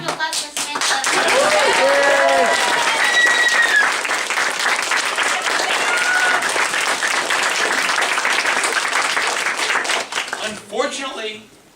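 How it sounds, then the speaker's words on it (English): Loud, sustained audience applause with cheering at a convention's closing ceremony, a dense wash of clapping that fills almost twelve seconds before cutting off sharply at the end, with voices calling out inside it. "Big round of applause for Samantha"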